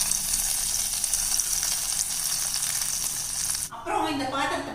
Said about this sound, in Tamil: இப்போ இந்த நெய் விட்டு தான் நம்ம முந்திரி திராட்சை வறுக்க போகிறோம்.